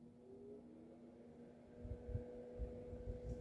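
A Holmes HANF-96 personal fan motor starting up on low speed, a steady low hum with a rising throb that builds over the last half, fairly loud and close, with no one speaking.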